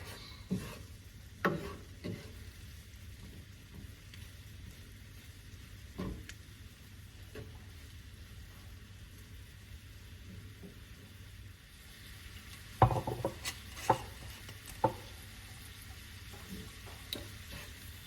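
Onions fry quietly in a pan for shrimp pasta, a faint low sizzle with occasional scrapes and knocks of stirring, including a small cluster of clicks partway through.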